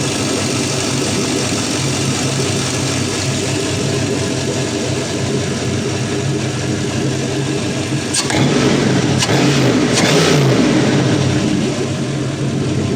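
A 5.3L LS V8 truck engine idles on a test stand with a steady, deep rumble throughout, briefly swelling louder near the end as it's blipped, no voices.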